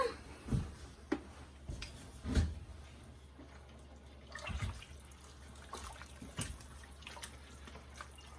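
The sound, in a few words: stirring soup in a pot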